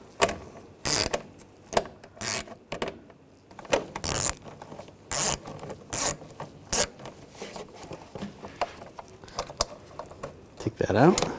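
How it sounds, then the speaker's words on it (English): Rapid ratchet clicks from a 7mm socket on a long extension and universal joint backing out an interior screw during parking assist sensor work on a 2014-2018 GMC Sierra 1500, coming in short bursts between pauses, close up. "Now on the inside, take this screw out, use a 7mm socket."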